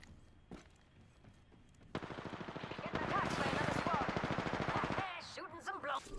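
Rapid automatic gunfire in a video game squad battle rattles in long continuous bursts, loud and close, with voices talking over the shooting as it cuts off.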